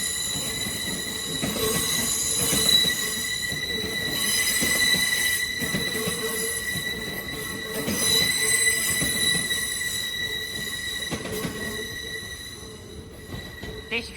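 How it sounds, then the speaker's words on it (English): The delayed Pennine Express to Manchester Piccadilly pulls out of Newcastle station, its wheels squealing in loud, sustained high-pitched tones over a rumbling, clattering roll for the whole stretch. "Departing out now is the delayed 1643 Pennine Express service to"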